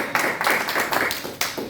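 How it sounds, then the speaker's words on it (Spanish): A church congregation applauds during a Sunday sermon, a short burst of clapping in uneven waves, fairly close and lively, with a few separate claps heard near the end. "Démosle un aplauso a nuestro buen Dios."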